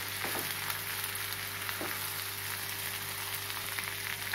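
Vallarai keerai greens sizzle steadily in a hot pan while being stirred, a continuous even frying hiss with a few soft scraping stir strokes, close and alone with no talk.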